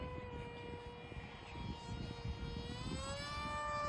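A 70% scale FT Flerken RC model airplane flies overhead on a 4S battery, its electric motor whining in a steady high tone that rises slightly in pitch, fairly distant, over outdoor wind noise.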